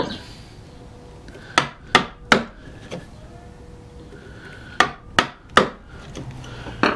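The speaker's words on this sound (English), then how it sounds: "and now chopping the end grain" A chisel is struck to chop the end grain of a wooden block, giving sharp knocking blows in two clusters of three or four, close and crisp against a quiet workshop background.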